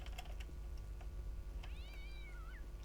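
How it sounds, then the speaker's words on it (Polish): A cat meows in the video game Postal 2, a single rising and falling mew near the end over a low background hum and light clicking. "kot spierniczaj mi stąd"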